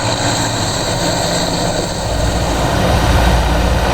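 An MI-17 helicopter drones loud and close in a steady, dense engine and rotor roar that swells slightly in the second half, with no voices heard.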